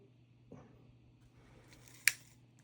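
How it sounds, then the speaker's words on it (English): A soft snip followed by a sharper metallic click of small scissors cutting through wire, two brief sounds against a quiet background. "let me use my little scissors here"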